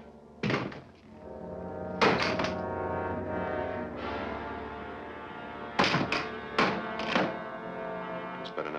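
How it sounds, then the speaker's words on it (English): Guns dropped onto the ground in a 1950s jungle action serial, heard as a few heavy, hollow thunks and thuds spread across the scene over a sustained low musical drone. "All right, now drop your guns."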